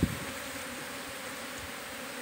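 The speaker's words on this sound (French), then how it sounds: "il y a 3 espèces d'abeilles ici" Bees humming around a flowering orange tree, a continuous close, steady buzz that holds without breaks, with a soft knock at the very start.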